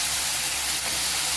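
Washed cauliflower dropped into hot tempering for a Maharashtrian phulgobi bhaji, a steady loud hiss of sizzling oil throughout, with no voices.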